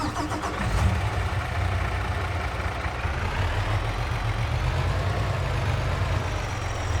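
A semi truck engine in a farming video game cranks and catches, then settles into a loud, steady, rumbling idle that runs close and alone without pause.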